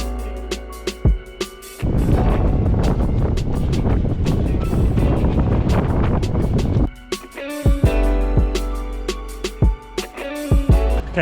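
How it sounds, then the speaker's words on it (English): Strong wind buffeting a microphone during an outdoor marathon training run, loud roaring gusts that dominate the middle and give way to choppier rumbles and thumps; no talking. "This wind is beating me"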